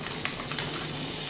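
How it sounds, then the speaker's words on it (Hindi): A virgin mojito is stirred up and down in a glass, giving a short, soft swishing and faint clinking with no voices. "अब इसको थोड़ा सा ना ऊपर नीचे कर लेते हैं ताकि सब चीजें मिक्स हो जाए"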